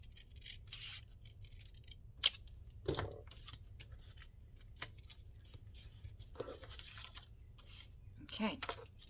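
Scissors trim the bottom edge of lapbook paper in a quiet room, a few soft snips and rubbing rustles spread across the span, faint and close.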